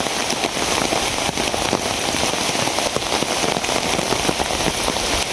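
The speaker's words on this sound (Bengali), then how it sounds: "এত বৃষ্টি হইলে" A downpour of heavy rain roars close by in an unbroken, even wash of drumming drops, with occasional louder splashes and no speech.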